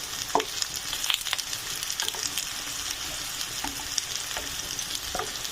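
New potatoes fry in a pan, browning on all sides, with a continuous close sizzle broken by scattered utensil scrapes and taps.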